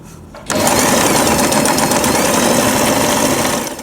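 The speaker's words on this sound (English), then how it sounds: "And you can continue sewing." A sewing machine runs steadily after a short quiet start, stitching a two-sided label onto a fabric hair bow. The motor drone stays loud and even, with a dense rapid needle clatter and no talking.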